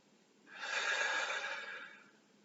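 One deep, audible breath during a hamstring stretch, a soft airy exhale that swells and fades over about a second and a half, close and quiet.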